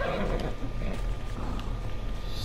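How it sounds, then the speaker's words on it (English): A horse in the video game Assassin's Creed Odyssey whinnies and snorts with hoof clip-clop, close and moderately loud over a continuous game soundscape, with no talking. "Sorry. Good horse."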